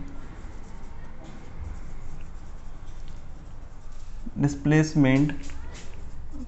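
A formula being written out during a physics lecture on distance and displacement, heard as soft, steady scratching strokes, with a voice speaking briefly near the end.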